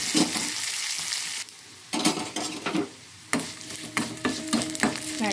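Papad (appadalu) frying in a kadai: a steady hiss of hot oil with bursts of crackling sizzle and a few stirring scrapes and clinks of a utensil, close and fairly loud, no talk.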